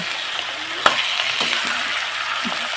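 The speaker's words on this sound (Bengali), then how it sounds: "এটা একটু তেলের মধ্যে একটু ভাজবো" Medium-sized chicken pieces fry in oil, making a steady, close sizzle, with one sharp clack and a few soft stirring knocks.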